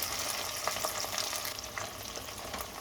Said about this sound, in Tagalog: haluin natin guys ang ating mani